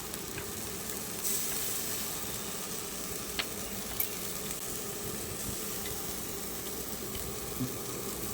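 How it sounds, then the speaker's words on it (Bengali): A paste of poppy seed, melon seed and tomato goes into hot oil with frying spices for a jackfruit and prawn curry, giving a steady loud sizzle with a few faint stirring clicks. "এর মধ্যে আমি চালমগজ, পোস্ত আর একটু টমেটো একসাথে করে আমি পেস্ট করে নিয়েছিলাম, সেটা আমি দিয়ে দিচ্ছি"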